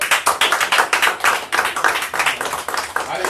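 An audience claps with a dense, brisk run of overlapping hand claps that rises and falls in short waves, loud and close.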